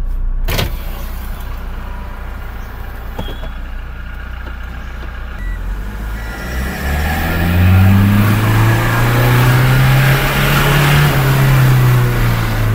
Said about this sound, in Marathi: ज्या वेळेला या इंजिनचं टर्बो चालू होतो त्यावेळेला असा रोरिंग साऊंड येतो, म्हणजे इंजिन जे आहे ना सगळा फाडून आवाज करतं